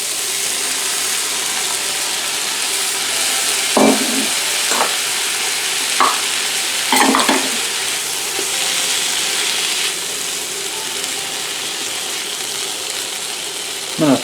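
Peas and potatoes hiss and sizzle in a hot pan, a steady bright frying sound broken by a few scraping stirs and clacks of a utensil.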